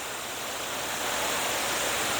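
A waterfall at a swimming spot in the Philippines rushes as a dense, steady broadband roar, loud and unbroken with no voices.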